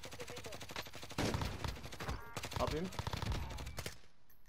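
Rapid automatic gunfire from a 5.56 rifle in Modern Warfare, dense bursts of shots firing nearly continuously and loud in the foreground, with a player briefly speaking over the shooting.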